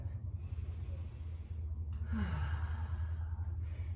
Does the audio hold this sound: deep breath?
yes